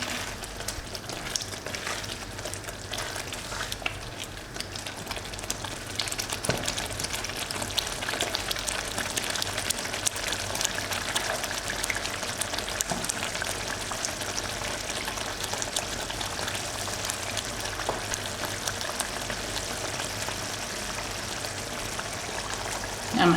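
A tomato rice mixture simmers in a pan, a steady patter of bubbling and fine sizzle like light rain, continuous and close with no talk.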